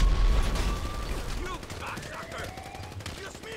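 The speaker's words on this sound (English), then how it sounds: "Stop shooting at me." Bursts of gunfire in the GTA 5 video game during a Quicksilver super-speed mod session, loud and crackling, with game noise and a voice talking over it.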